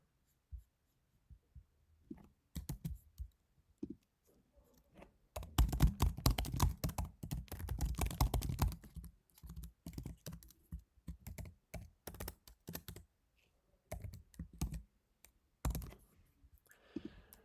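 Computer keyboard typing, scattered clicks at first, then a dense burst of rapid keystrokes, then sporadic key taps, close and fairly quiet.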